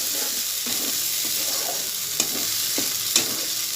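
A spice paste with green chillies sautés in oil for a hilsa kalia, giving a steady, close sizzle with a few spoon-stirring clicks and scrapes throughout.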